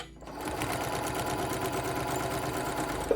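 A sewing machine stitches quilt pieces for a turtle quilt, running in one steady, close, mechanical whir with a rapid needle rhythm and a small knock near the end.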